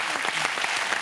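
A studio audience on a French television talk show claps in a dense, loud, steady burst of applause filling the whole moment.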